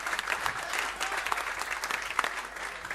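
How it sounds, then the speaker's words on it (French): Audience applause for the comedian Moustique, a steady crackle of clapping hands from a crowd, moderately faint and continuous. "On applaudit encore très fort pour Moustique"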